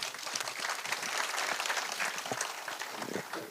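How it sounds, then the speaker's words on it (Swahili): Applause for the Commissioner at a community security forum in Kiambu Town: a crowd claps steadily for a few seconds, dense and moderately faint, with some sharper individual claps standing out. "Pigia makofi, Commissioner."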